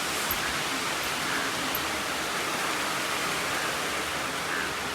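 Steady monsoon rain pouring down around a village home, a dense, even hiss of falling water with no breaks, moderately loud and unbroken by voices.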